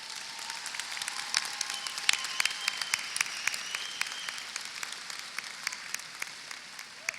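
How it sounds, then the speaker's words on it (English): Applause from a crowd at a high school graduation ceremony, a steady wash of many hands clapping in a large room, moderately distant, continuing evenly throughout without talk. "Let's give these fine ladies and gentlemen another round of applause"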